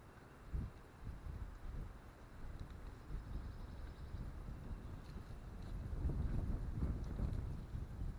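Gusty wind buffets the microphone in low, uneven rumbles on a ridge in Cove Creek WMA, swelling stronger toward the end, with no voices.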